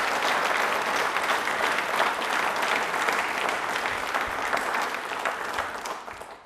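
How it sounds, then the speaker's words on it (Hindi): A hall audience gives strong applause at a Dr. Bhimrao Ambedkar Jayanti programme, the clapping full and even for several seconds before tapering off at the close. "तालियां एक बार जोरदार हो जाए बाबा साहब के लिए।"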